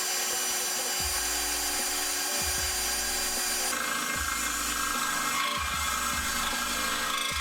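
A power drill bores into the plastic front bumper of an Acura RSX near the headlight corner, a steady whine with the motor cutting in and out in short bursts over continuous background noise.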